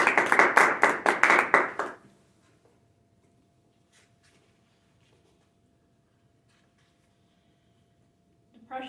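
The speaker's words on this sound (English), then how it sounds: "Give a round of applause for the next speaker." A short burst of audience clapping at a public talk, quick sharp claps at close range lasting about two seconds, then a long near-silent room, with a faint voice starting again at the very end.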